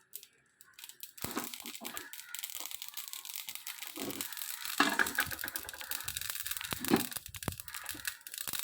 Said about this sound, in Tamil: இதை நல்லா மிக்ஸி ஜாரில் போட்டு பொடி பண்ணிக்கலாம்.